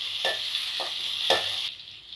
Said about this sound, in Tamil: பெருங்காயம் கட்டி எல்லாம் நல்லா மிக்ஸ் ஆகிற அளவுக்கு வதக்கி விட்டுக்குங்க